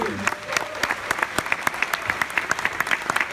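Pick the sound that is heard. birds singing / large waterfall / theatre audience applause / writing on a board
theatre audience applause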